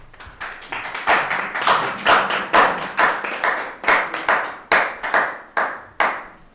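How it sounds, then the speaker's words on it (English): A slow clap at a town council meeting in Basalt, with single loud hand claps in a steady, deliberate rhythm of roughly three per second, close and sharp, with no talking. "Slow clap."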